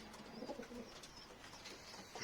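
Soft, distant cooing of pigeons over a faint, steady background hiss.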